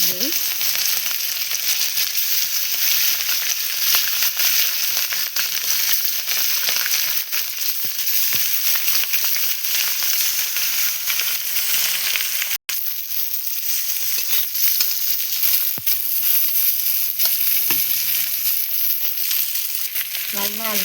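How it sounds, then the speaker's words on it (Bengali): Pieces of rohu fish fry in hot oil for a home-style fish curry with potatoes, giving a steady, dense sizzle with scattered crackles and pops throughout, close and loud with no talk. "আমার মাছ ভাজা হয়েছে"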